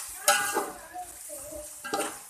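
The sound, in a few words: frying bhindi gosht with spices in a pan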